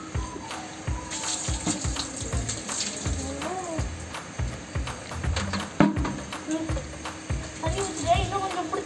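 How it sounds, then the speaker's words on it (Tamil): Water poured and splashed while a bicycle is washed by hand, with irregular splashing and trickling throughout and intermittent speech over it. "நல்லா தண்ணி ஊற்றி கழுவிக்கிறேன்."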